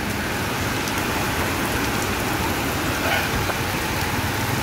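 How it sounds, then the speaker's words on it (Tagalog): Steady, dense rain pouring down heavily, a constant broadband hiss with no pauses, close and loud throughout. "Inabutan tayo ng ulan, lakas ang ulan dito."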